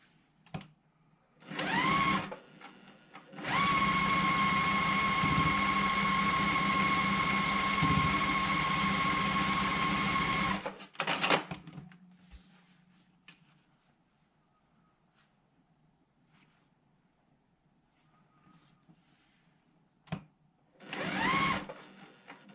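A sewing machine stitches side borders onto a quilt block, short bursts of whirring motor then a long steady run of rapid needle clatter, close up, with quiet handling noises between runs.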